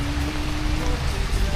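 Steady rain pours down in Princes Street Gardens, Edinburgh, a dense even hiss of drops striking the ground and surfaces all around, continuous and fairly loud with no voices.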